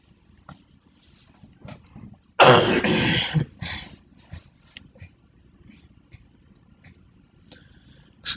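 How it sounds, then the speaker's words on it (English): A man's sudden burst of coughing and throat clearing, one loud close fit in the middle of otherwise quiet near-silence with small mouth noises around it. "Excuse me for coughing."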